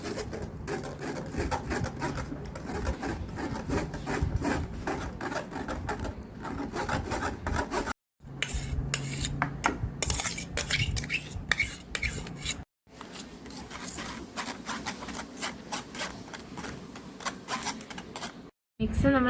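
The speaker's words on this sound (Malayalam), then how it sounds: "ഇനി നമുക്ക് നന്നായിട്ടൊന്ന് അരിച്ചെടുക്കാം." Blended egg mixture for a Kollam-style watalappam is pushed through a sieve, giving continuous rubbing and scraping sounds with a few short pauses, close and fairly quiet.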